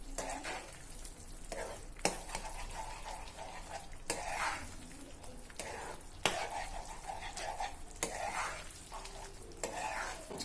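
Spoon scraping and stirring Bombay Karachi halwa with almonds and cashews in a pan, with repeated sharp scrapes and knocks over a steady soft sizzle, close by, and no talking.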